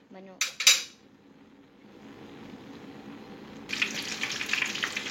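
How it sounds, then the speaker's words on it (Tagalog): Chicken frying in a pan, a low steady sizzle that grows stronger after a few sharp clinks of cutlery and pans at the start. It sounds close and fairly quiet, with no talk. "nagpiprito na ako ng manok"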